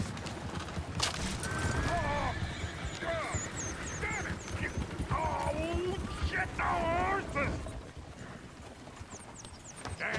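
In Red Dead Redemption 2, horse whinnies and neighs rise above busy clip-clop hooves and background chatter, several calls spread through the scene with mixed voices underneath.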